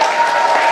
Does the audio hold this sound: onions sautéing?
no